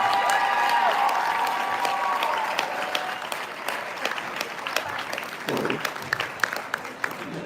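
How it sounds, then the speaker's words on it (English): A basketball crowd in a high school gym applauds the Oregon Episcopal volleyball team, steady clapping with scattered cheers that rolls on for several seconds and slowly thins out, with an announcer's voice briefly heard early on. "Fans, have another round of applause for the OES volleyball team"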